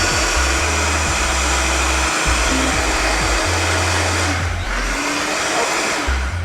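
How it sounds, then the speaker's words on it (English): A blender purees gazpacho with a loud, constant motor roar and churning whoosh, close and unbroken throughout, with the pitch wavering slightly as the contents swirl. "you really want to blend the gazpacho, 3/4 of it till it's really smooth"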